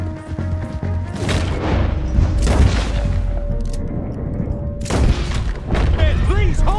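Shootout in the game Red Dead Redemption 2: heavy booming gunshots and crashing impacts in repeated volleys over a loud scene, with someone shouting over the fire.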